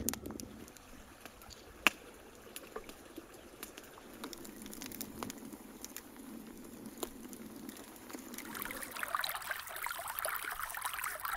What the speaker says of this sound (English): Time to fetch some river stones, giving them a good wash before use.